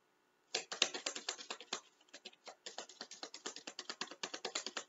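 Tarot cards being shuffled up close, a rapid run of crisp papery clicks and flutters that pauses briefly midway, then resumes in a steady burst, with no talking.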